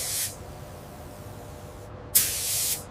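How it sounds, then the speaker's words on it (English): Short bursts of spray painting a base coat onto an AH-64 Apache helicopter: one brief hiss at the start, a pause, then a longer sharp spray of about half a second. "Base coat spray painting transforms the Apache into historical military colors"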